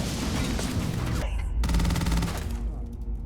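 Rapid automatic gunfire and bursts of shooting in the Starfield video game, loud and dense throughout with a brief gap before another volley, a voice faintly mixed in.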